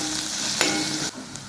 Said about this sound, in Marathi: कांद्याला छान 1-2 मिनिटं परतून घ्यायचं आहे लालसर होईपर्यंत